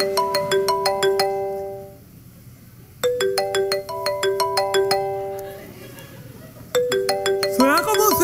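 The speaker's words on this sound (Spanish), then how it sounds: "¿Suena como un celular?" A mobile phone ringtone plays a repeating melodic chime pattern in bursts with short gaps, loud and close, ending as a voice starts speaking over it.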